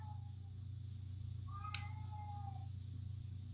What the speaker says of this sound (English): the cat's a little lonely